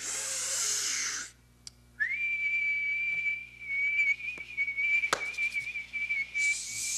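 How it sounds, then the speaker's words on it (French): A person whistles a long sustained note that wavers slightly, with a few clicks and sharp knocks partway through, and noise bursts at the start and end. "Si un siffleux sait siffler, on peut siffler nous aussi."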